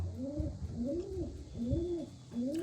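Pigeon cooing, repeated low rounded coos in a steady rhythm, close and fairly loud with no talking, from a cage where a male pigeon kept for three to four years has two red chicks.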